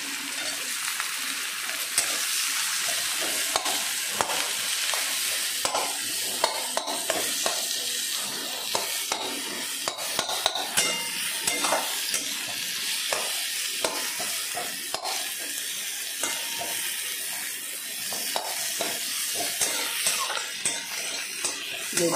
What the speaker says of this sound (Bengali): একটু পেঁয়াজ দিয়ে দিলাম।